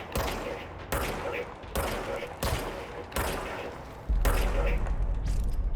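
Gunfire from a weapon in the video game Control: about five loud, close bursts of shots, each cut off by a brief pause, ending in a longer, heavier sustained volley.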